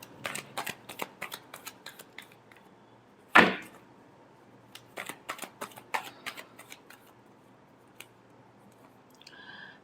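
Tarot cards being shuffled by hand, giving a string of crisp riffling flicks and snaps with one louder slap of the deck partway through, then more quick bursts, close and alone without talk.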